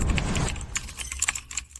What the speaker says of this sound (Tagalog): nagtatype ka dito ng mahigit 10 minuto